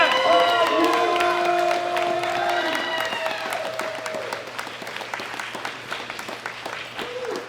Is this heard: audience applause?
yes